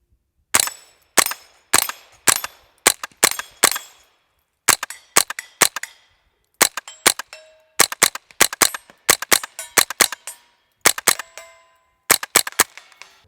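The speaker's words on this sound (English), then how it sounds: "All right, let's do some more shooting." Suppressed rifle shots through a Gemtech Integra suppressor with standard velocity ammunition, a long series of sharp, quiet snaps fired in quick clusters with short pauses, each with a metallic ring, and no talking.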